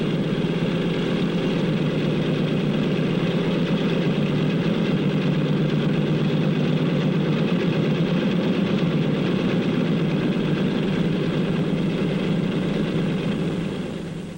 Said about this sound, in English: The plane starts over to the runway. There it will wait for its turn to take off.